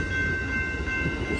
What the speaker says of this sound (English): Alright, folks, that train is off to Seattle.